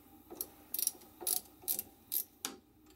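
Close ratcheting clicks come in about six quick bursts while bushing parts are unscrewed on a Prusa i3 Mk3 3D printer, each burst short and crisp, with quiet pauses between.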